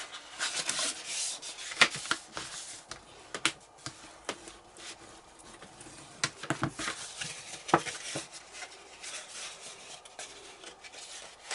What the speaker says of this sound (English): burnish all of our fold and burnish all of our score lines